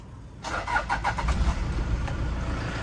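A 2003 Toyota Sport Rider 3.0 automatic 4WD engine starts up and keeps running with a steady low rumble, with a few revs early on, close by and fairly loud.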